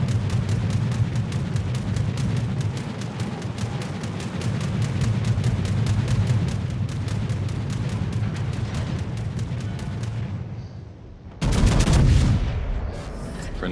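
Naval guns firing during a World of Warships battle, a dense rapid stream of booming shots over rumbling low-end noise, ending with a single heavier blast after a short lull.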